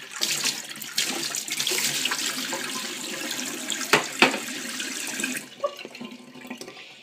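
Running tap water splashes steadily while a guinea pig cage tray is washed out in a sink, with a couple of louder splashes and clatters near the end as the flow tapers off.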